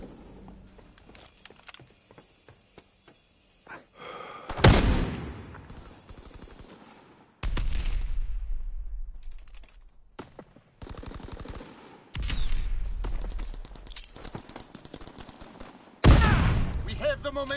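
Gunfire in the Call of Duty WWII video game, bursts of rapid shots and sharp reports separated by quieter gaps, loud and close, with occasional game voices calling out.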